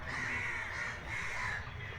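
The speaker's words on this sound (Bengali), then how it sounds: "নিস্তব্ধতা, কাকের ডাক" Crows caw repeatedly in the garden of a zoo in Rangpur, two drawn-out harsh calls rising over steady outdoor background noise, fairly close and with no voices.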